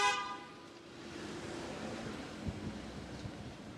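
A single short car horn toot sounds in traffic near Ōsaka Castle Park, clear but moderately distant, followed by quiet street rumble and light wind noise.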